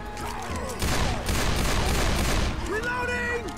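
Rapid bursts of AK rifle fire in Left 4 Dead 2, loud and dense, crackling for about two seconds in the middle with brief ricochet-like tones around it.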